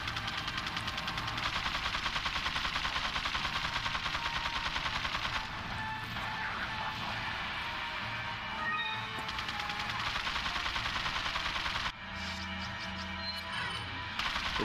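Sustained rapid automatic gunfire from an enemy gunman in the video game Resident Evil 4, a steady loud rattle running almost the whole way, briefly cutting out before resuming.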